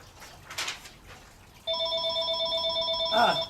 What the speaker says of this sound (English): so I will not pick up this phone